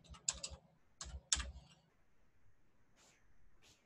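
A name typed on a computer keyboard, a few sharp close key clicks in quick bursts, then a quiet stretch with a couple of fainter taps, no talk over it.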